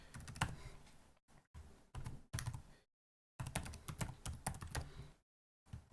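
Someone types a web address on a computer keyboard, a close, quiet clatter of rapid keystrokes in several bursts broken by short silent pauses.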